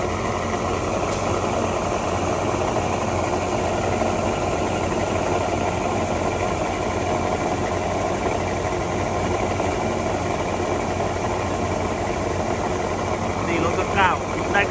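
Rice harvester engine running steadily in a paddy field, a loud continuous mechanical drone with vibration that persists throughout, with brief faint sounds near the end.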